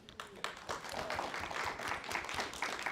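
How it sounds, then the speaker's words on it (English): A small audience at a talk on bird-friendly gardening claps for the presenter, a soft, scattered round of applause heard at a distance and fairly quiet, steady for a few seconds. "give Kelsey a big round of applause"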